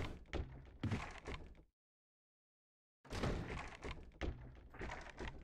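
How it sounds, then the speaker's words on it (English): Someone tries to open a door in Resident Evil 1, producing repeated loud, close thunks and rattling knocks in two bursts separated by a stretch of complete silence. "Sounds like somebody's trying to open a door or something."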